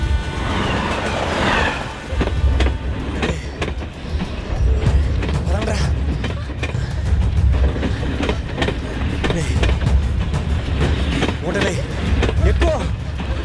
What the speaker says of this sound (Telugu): ఎక్కడో ట్రైన్ చూడండి వినిపిస్తుందిరా.